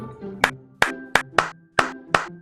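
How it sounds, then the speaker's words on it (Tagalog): Six sharp, evenly spaced claps ring out over a steady background tone, children's three claps and three stomps in a classroom lesson, each hit crisp and close. "bigyan ng mga sarili ng 3 palakpak at 3 badyak"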